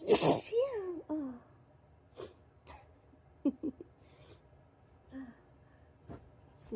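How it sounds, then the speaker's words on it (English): One loud, wet sneeze explodes right at the opening, then trails into breathy sniffs and short vocal noises scattered through the rest. "Sneezes have been so big and so wet."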